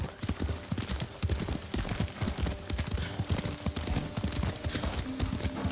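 A horse's hooves clop in a steady galloping rhythm while riding in the video game Ghost of Tsushima, loud and continuous over a wash of ambient game sound.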